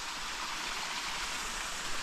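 A riverside stream flowing beside a vegetable garden near a ravine, a steady, even rush of water heard close and fairly loud, no voices.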